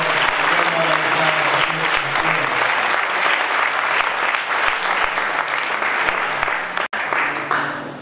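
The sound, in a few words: church congregation applauding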